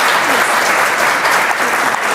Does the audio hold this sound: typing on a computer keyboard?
no